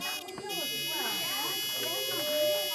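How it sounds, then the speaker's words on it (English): A small buzzer powered by a single cell in a simple electrical circuit gives a steady, continuous electric drone in a primary science lesson, while a child and an adult talk over it. "Just grab hold of that buzzer for me."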